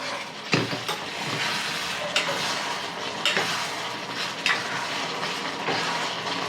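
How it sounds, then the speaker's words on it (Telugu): Ginger paste frying in a pan for a tomato and drumstick curry, with a continuous close sizzle and hiss and periodic scraping knocks of a utensil stirring, no talk over it. "కొంచెం అల్లం పేస్ట్ కలపాలి."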